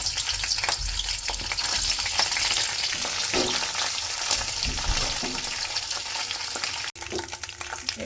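Peanuts tip into hot oil in a pan and fry with a steady, dense sizzle and crackle, with occasional stirring scrapes.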